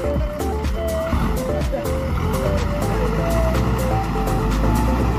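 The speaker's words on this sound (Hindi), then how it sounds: "आ रहा है गाड़ी आ रहा है निकल के आ रहा है" A vehicle pulls out and comes along a mountain road in North Sikkim, its engine rumbling loud and close with a tonal honk-like sound while people talk over it.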